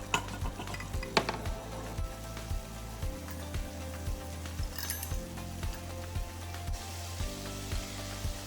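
Salmon patties browning in a frying pan with little liquid, heard as a soft, low sizzle under a regular rhythmic clicking of a spatula or pan being moved, close and fairly quiet, with no voices.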